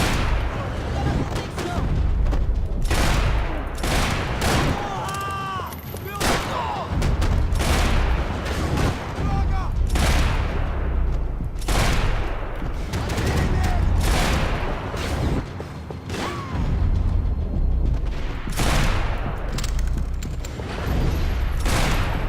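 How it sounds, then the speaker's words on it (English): Gunfire from dual revolvers in the Max Payne 3 video game: loud, repeated booming shots in bursts and volleys, some overlapping, with brief gaps and faint echoing tails between them. "Dual revolvers. I'm a true cowboy now."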